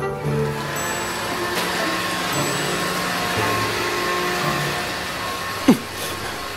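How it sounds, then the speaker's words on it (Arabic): A household vacuum cleaner runs steadily at a loud, even drone throughout, with a brief sharp knock near the end. "وقفي المكنسة، صوتها كتير عالي"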